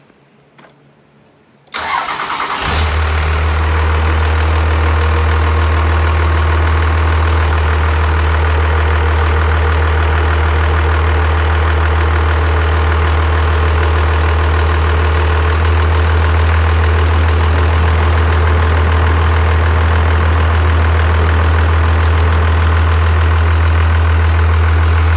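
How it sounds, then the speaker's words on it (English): A 1997 Dodge Ram 3500 pickup with a 5.9 Cummins diesel cranks briefly and fires up after a couple of seconds of near silence, then settles into a loud, steady low diesel idle that runs alone for the rest of the clip. "we're gonna go ahead and start the vehicle back up"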